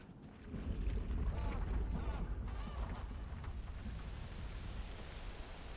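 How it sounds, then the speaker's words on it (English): Heavy rain and rolling thunder in the Alan Wake II video game, a continuous low rumble with steady broadband downpour, loudest early and easing slightly toward the end. "thunder"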